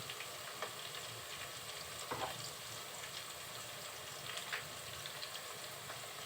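Onions and ground spice paste frying in a pan for a Bengali beef curry, giving a steady, soft sizzle and crackle throughout with occasional brief stirring scrapes and no talk.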